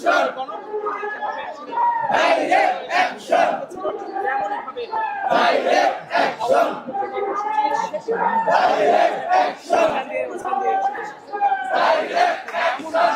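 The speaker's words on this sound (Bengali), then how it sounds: "আওয়ামী লীগকে নিয়ে বিভিন্ন স্লোগানে কিন্তু এই কর্মসূচি তারা পালন করছেন" Dhaka University students on a protest march against the Awami League chant slogans in loud, rhythmic bursts from a dense crowd, with shouting voices rising and falling together throughout.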